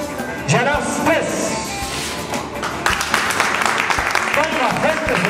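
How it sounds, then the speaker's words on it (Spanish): Crowd applause at a municipal inauguration ceremony, sustained clapping heard under voices, with a few louder knocks and bumps scattered through. "Aplauso, frente a este aplauso, muy bien"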